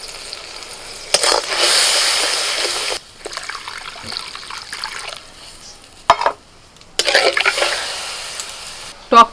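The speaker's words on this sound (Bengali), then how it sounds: "ফোড়ন হয়ে গেলে এবার তেঁতুলের কাতটা দিয়ে দিচ্ছি" Tamarind pulp hits hot tempering oil and erupts in loud, crackling sizzle bursts that surge, ease to a quieter bubbling, cut out briefly, then flare again with a short splash and fresh spitting near the end.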